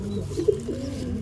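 A young pigeon gives a soft, low coo, brief and close, over a steady background hum.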